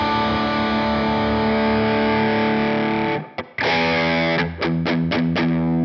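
Distorted electric guitar through a Line 6 Helix modeler, a sustained chord ringing loud and steady, then a brief break and several choppy restruck chords as the virtual mic distance change thins out the low end.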